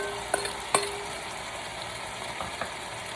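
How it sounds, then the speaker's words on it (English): Butter beans going into a one pot veggie dish with sausage, a steady close sizzle of frying with a couple of sharp clinks and stirring scrapes, no talking. "alright, now, we're going to add in our butter bean"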